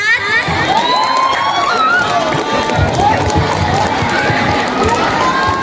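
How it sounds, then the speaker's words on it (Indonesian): Students at a junior high school student council campaign debate cheer and clap for a candidate, loud continuous crowd noise with shouting, whooping voices and clapping mixed together throughout. "Tepuk tangan untuk kandidat nomor 4."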